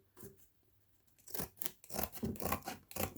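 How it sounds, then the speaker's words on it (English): Paper pages are torn from a book close by, with a soft pause followed by several rough ripping and tearing strokes, quiet and with no talking. "So if you rip that away"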